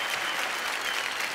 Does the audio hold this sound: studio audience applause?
yes